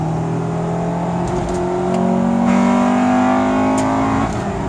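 A Honda Integra Type R DC2 engine with a DC Sports aftermarket intake revs up close, its pitch climbing steadily in a loud, throaty roar with a whooshing intake sound.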